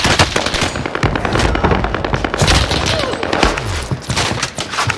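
Dense, continuous automatic gunfire and rapid bursts fill the battle in Warzone Caldera, loud and close with overlapping shots and explosive pops throughout.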